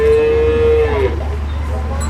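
A Murrah buffalo cow in a village gives one loud, close moo lasting about a second, with a steady low rumble behind it and nothing else.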